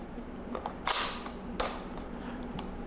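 An airsoft M4 AEG rifle, a high-end build, fires a few sharp, snapping single shots at irregular intervals, fairly close and moderately loud over a quiet background hum, with no talking.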